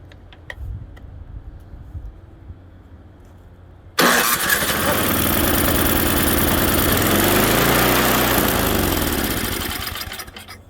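An MTD snow thrower engine is cranked over by its electric starter and catches, roaring loudly close by for several seconds before gradually fading as it starts to die, after quiet mechanical rattling beforehand.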